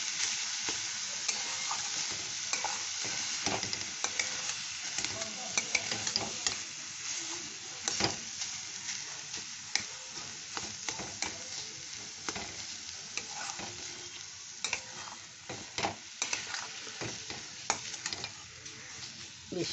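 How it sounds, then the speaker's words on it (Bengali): Fish frying in a pan with spices while being stirred, a steady close sizzle and hiss with frequent scraping and clinking strokes of the spoon throughout, with no talk. "ওই মশলার সাথে একবারে খুব ভালো করে কষিয়ে নেব।"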